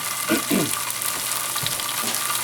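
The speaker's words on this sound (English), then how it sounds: "we're just gonna give them a quick saute" Ingredients get a quick sauté in a pan with adobo sauce for pork tenderloin, making a brief, dense sizzle with a couple of soft stirring scrapes near the start, close and steady, with no speech.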